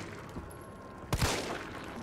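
Gunfire in the zombie video game Resident Evil 3 comes as one or two sharp, fairly loud shots in quick succession partway through, set against a steady low game ambience with no talk.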